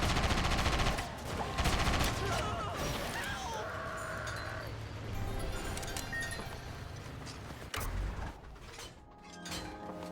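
A video game firefight with bursts of rapid gunfire and shots over a dense, busy mix of game sounds, loud at first and then continuing more sparsely, with a few sharp isolated cracks toward the end.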